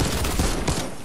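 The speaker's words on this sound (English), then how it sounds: "Are we shooting somewhere?" Rapid gunfire in a video game, a dense burst of overlapping shots filling the whole moment at close range with no pause.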